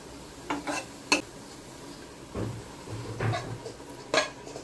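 Dry fruits dry-roasted in a pan on low gas with no oil: intermittent scraping and clinking of a spoon stirring against the metal pan, over a faint background hiss.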